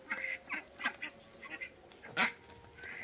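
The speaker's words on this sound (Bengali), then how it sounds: "মা কিন্তু এখন হাঁস বের করছে" A flock of village ducks in the Sundarbans quacks repeatedly as they are let out, a string of nasal calls in irregular bursts, one louder honk near the end, moderately close and fairly quiet over a low background.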